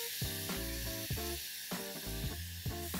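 A finely chopped tomato sautés in about a tablespoon of hot oil, giving a steady soft sizzle and hiss that runs beneath tonal background music.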